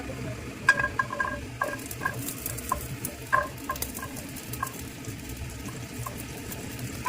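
Food fries in a pan at home, a soft continuous sizzle with light stirring clinks and scrapes scattered through, fairly quiet and close, with no voices.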